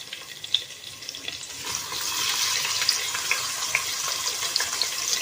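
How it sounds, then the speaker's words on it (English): Onion fries in butter with a continuous close sizzle and scattered crackles that grow slightly denser and louder partway through, with no voices. "fry onion till it is crispy."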